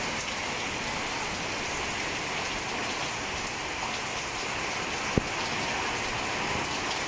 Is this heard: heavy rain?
yes